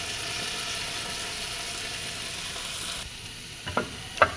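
A pan sautés with a Maggi cube and tomato paste, giving a steady close sizzle that drops back partway through, followed by a couple of sharp utensil scrapes near the end.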